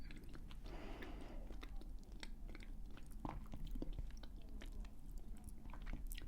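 Someone bites and chews a crunchy biscuit close to the microphone, with quiet irregular crunching clicks against soft background noise and no talking.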